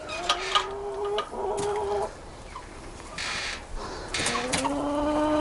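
Chickens cluck and murmur in short, overlapping calls at close range, with a few higher squawks breaking through a steady background hum.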